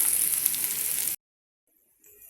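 Curry with sirraku leaves sizzles and fries in a pan on a low flame as it is stirred. A steady, close hiss lasts about a second, then cuts to near silence before faint sizzling returns.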